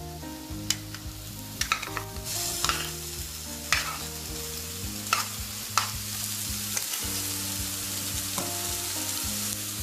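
Masala spices fry and get stirred in a kadai for kadai paneer, a steady sizzle with sharp utensil clinks and scrapes under continuous background music.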